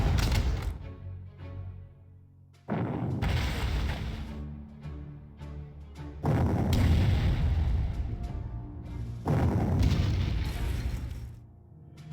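Artillery fire in the World War II strategy game Panzer Corps: four long, rumbling explosive bursts roll in one after another, separated by quieter gaps, with no talking.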